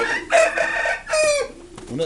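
A Shamo rooster crows loudly and close by, two drawn-out calls in quick succession followed by a shorter clucking note, with no other sound competing.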